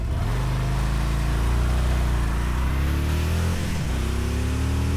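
2026 Harley-Davidson Fat Boy motorcycle accelerating hard in first gear in sport mode, a loud deep engine roar climbing in pitch, a brief dip as it shifts near the end, then rising again.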